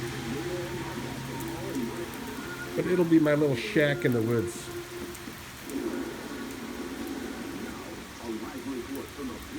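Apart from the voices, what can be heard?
heavy rain falling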